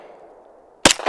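A single sharp, loud gunshot from a Sig P320 M17 pistol on an outdoor range cracks near the end of a brief quiet stretch, followed by a short echo.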